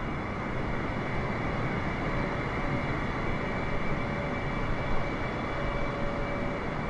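A Singapore Airlines airliner landing at Tampa International Airport: a steady, unbroken engine and air roar, even and moderately loud, lasting throughout without any voices.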